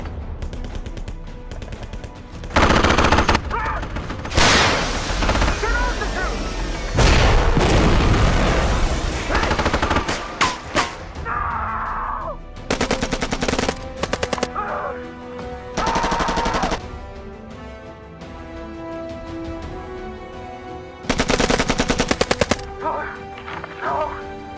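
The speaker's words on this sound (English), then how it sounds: "Briggs, give us some cover fire." Machine gun cover fire rattles through an action movie battle scene, with repeated loud bursts of automatic fire and heavy booms, separated by quieter gaps where voices shout between the volleys.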